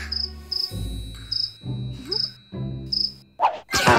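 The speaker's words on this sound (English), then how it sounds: "Show yourself, cricket!" Cartoon cricket chirping indoors in a children's animated show, five evenly spaced bright chirp bursts over low background sounds, followed by a couple of short louder rustles at the end.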